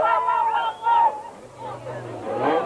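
Crowd at the Nissan Dealer 400 race in 2006 clamours and cheers in a loud, surging babble that swells and fades over a low background rumble.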